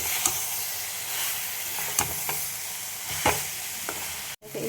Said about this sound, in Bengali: এর মধ্যে আলু আর সয়াবিনগুলো আমি দিয়ে আবার একসাথে